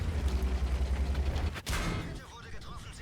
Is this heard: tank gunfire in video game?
yes